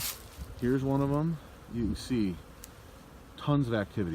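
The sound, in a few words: bees buzzing at a beehive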